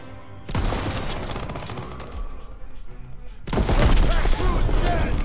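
Heavy gunfire from a Call of Duty WW2 battle, Operation Cobra mission: dense bursts of rifle and machine-gun shots crackling continuously, intensifying loudly toward the end, with shouted voices mixed into the firefight.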